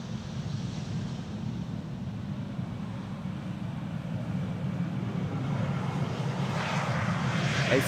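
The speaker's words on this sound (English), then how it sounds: "This is Air Dolomiti, Embraer 190." Air Dolomiti Embraer 190 airliner arriving at the Polderbaan runway, a broad steady jet roar that grows slightly louder toward the end, with no talk.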